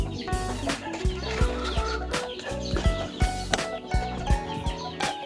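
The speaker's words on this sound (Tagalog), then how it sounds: "Lipat tayo sa mga sisiw." Chickens and chicks on a poultry farm make rapid, repeated high peeping and clucking calls, close and steady, mixed with knocks and rustling.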